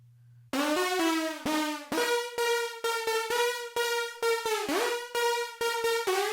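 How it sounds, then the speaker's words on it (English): A plucky synth trap lead with a very short, wet reverb and compression plays a choppy melody of repeated, sharply cut notes. It is loud and close, with gaps between phrases and no voice. "And then with the reverb, it sounds like this."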